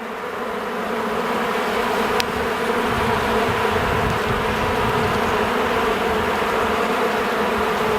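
Honey bees riled up during a hive inspection buzz in a dense, steady drone close by, continuous with no talking.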